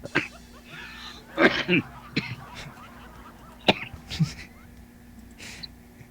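One person gives several short, harsh coughs and throat-clearing bursts in irregular succession, close to the microphone, with quiet breathing and a faint steady hum between them.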